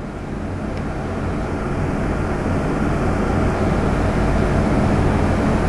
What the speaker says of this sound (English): This is our 632 with the mirror image turbochargers.